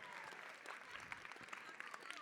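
A room of people claps in steady applause at a fundraising celebration, a dense patter of hands from a moderately sized crowd at some distance.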